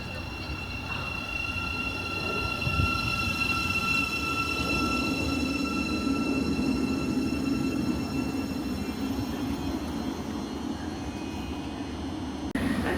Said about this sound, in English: rolling into Stevenage is our train forward, GTR Siemens Class 700